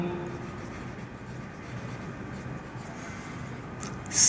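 Steady scratchy writing on a board fills the stretch with a continuous dry rasp, close and fairly loud, in a classroom accountancy lesson with no talking.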